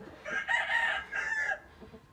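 Hens in a coop's laying room cluck and squawk in two close, loud bursts of fowl calls, the first lasting about a second and the second shorter, with a brief quieter gap between them and no talking.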